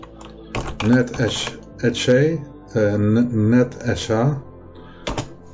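Computer keyboard typing as commands are entered on a Windows 10 PC in Notepad, quick key clicks mixed with a person talking over them.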